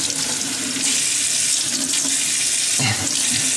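Tap water runs steadily into a sink during a child's face washing, a broad continuous rush that stays fairly loud throughout with a brief splashy change near the end.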